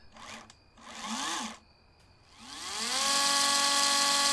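A small cordless chainsaw motor whirs in two short bursts, then revs up into a steady, rising high-pitched whine that holds loud to the end.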